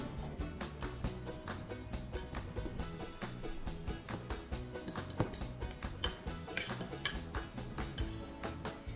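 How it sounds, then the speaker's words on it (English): Sweet corn chaat ingredients being mixed in a bowl, with steady clinking and scraping of a spoon against the dish, a dense rapid rhythm of small metallic taps throughout, close and fairly loud, no talking. "Now I will mix all the ingredients."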